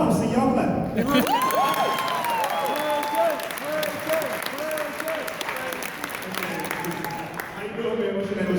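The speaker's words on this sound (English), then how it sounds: "I don't see y'all clapping." Loud audience applause with cheers and whoops fills a Power Morphicon 2016 Power Rangers Forever Red convention panel, sustained and dense throughout with excited voices rising above the clapping.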